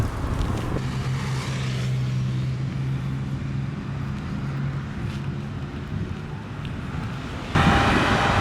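Strong wind buffets and roars on a trip around Saint-Jean-Port-Joli, Quebec, a continuous rush of gusts close to the microphone, with a low hum of passing traffic beneath and a sharp louder gust near the end.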